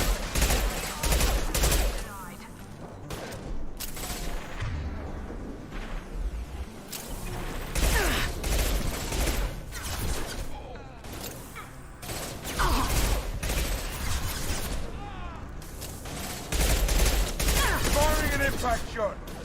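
Gunfire in the video game Mass Effect 2 Legendary Edition, with repeated rapid bursts and volleys of shots punctuated by brief lulls. Voices come and go between the firing.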